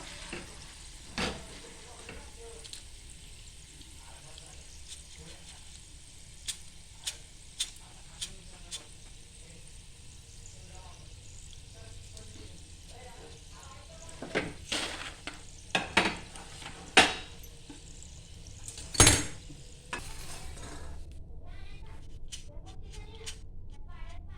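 Chana dal frying in hot oil, a steady continuous sizzle with occasional sharp clinks and scrapes of a metal spoon against the pan; no speech.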